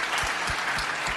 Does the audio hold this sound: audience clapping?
yes